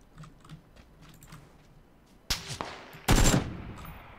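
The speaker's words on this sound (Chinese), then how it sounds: "我的枪打不太到。" Gunfire in a PUBG-style battle royale game: a few faint distant taps, then two sharp, loud close shots about a second apart, the second followed by a ringing burst.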